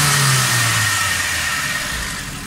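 Engine of a 2012 Suzuki Cultus car running after a fuel pump wiring fault repair, a loud steady close drone that eases slightly in level, with no talk over it.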